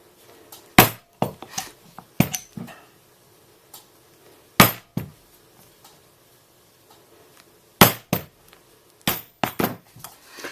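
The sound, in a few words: hole punch punching holes in leather straps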